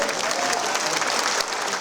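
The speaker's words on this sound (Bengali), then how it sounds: "একটা হাততালি দেন তো জোরে।" An audience applauding at a public gathering where a state minister is present, steady loud clapping from many hands that fills the whole moment.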